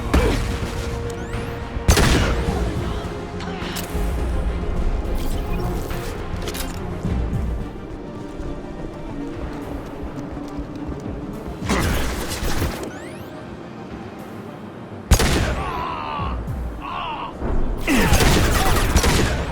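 Sci-fi gunfire from a Mass Effect 2 firefight: bursts of shots and heavy impacts crash in repeatedly over a busy mix of music and effects, loud and close, with occasional game voices.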